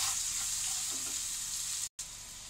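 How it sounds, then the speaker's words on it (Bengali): Chopped onion fries in oil in a pan for Bengali suji upma, a steady close sizzling hiss with faint stirring, interrupted by a brief silent cut near the end. "দিয়ে এবার আমি কুচিয়ে রাখা পেঁয়াজটার মধ্যে দিয়ে দেবো, দিয়ে পেঁয়াজটাকে ভালো করে ভেজে নেব।"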